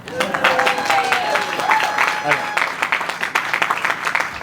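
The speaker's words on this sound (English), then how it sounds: "You can clap for them." An audience at a press conference for a cinema center applauds, a steady wash of clapping from many hands held at an even level throughout, with a voice speaking over it partway through.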